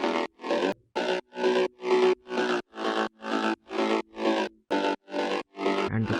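A synth mid bass from a progressive house drop pumps in a steady run of evenly spaced chopped notes, about a dozen short loud stabs with brief gaps between them.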